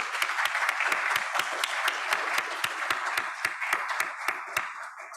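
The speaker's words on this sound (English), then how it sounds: "maybe we can have a round of applause for our panelists and also all of our contributors today" Steady applause for workshop panelists at a robot learning conference, a moderate, evenly paced patter of claps from a small audience, continuing throughout without a break.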